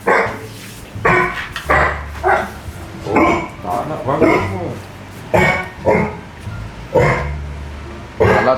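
Dogs bark repeatedly in short bursts, close and loud, while a person shouts over them.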